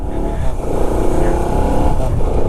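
Motorcycle engine on the road during a Madurai to Bangalore ride, a loud, dense, rumbling drone with steady wind and road noise, close and continuous throughout.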